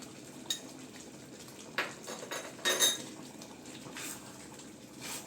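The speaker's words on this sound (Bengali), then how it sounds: "আমের সাথে মশলাটা ভালো করে মিশিয়ে দিচ্ছি।" A spoon stirring spice mix into cooked raw-mango chutney in a metal pot, giving faint scraping and a few sharp clinks against the pan, soft and close with no talking.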